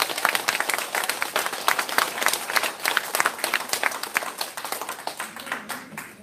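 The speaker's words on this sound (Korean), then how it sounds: "박수 한번 치워줄 때." A lecture audience at a Korean political talk given by a U.S. Republican speaker breaks into clapping, a dense burst of handclaps fairly close, steady for several seconds, then thinning out toward the end.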